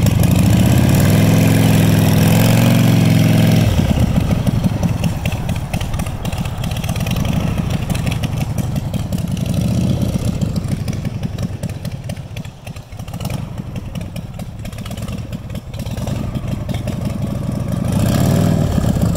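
A Harley shovelhead motorcycle with an EFM clutchless suicide shift runs close by, its engine loud and lumpy at idle, then revving and easing off through a gear change before the throttle swells again near the end.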